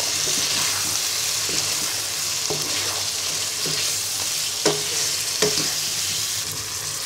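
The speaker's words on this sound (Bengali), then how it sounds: "এবার মুরগির মাংসের সাথে আলুটাকে মিশিয়ে নিব।" A spoon stirs cut potatoes into chicken curry cooking in a pan, giving steady close sizzling with a series of sharp scraping knocks spaced every second or so.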